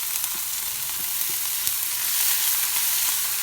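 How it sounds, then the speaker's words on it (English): Garlic and chopped spinach sautéing in a pan for sweet potato paratha filling, a dense, even hiss of sizzling with faint stirring taps, close and uninterrupted, no voices. "Just saute for few minutes."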